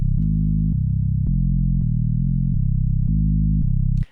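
Bass synth note from Pigments, sine-based with only a hint of delay and reverb, plays as a sequence of clean sustained low tones changing pitch roughly every half second, each starting with a soft click, loud and dry.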